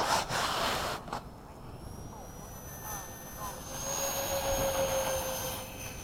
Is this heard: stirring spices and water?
no